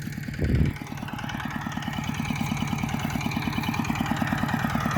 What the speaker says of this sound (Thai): เดี๋ยวนะครับเราใช้รถไถ